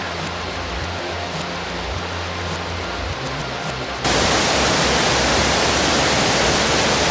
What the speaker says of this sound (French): Le ruisseau de diamants qui tombe depuis un escarpement granitique.